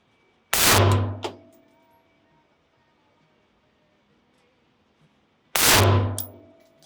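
Two loud, sharp AR-15 rifle shots, fired while zeroing the rifle, crack about five seconds apart, each followed by a short ringing decay in open air.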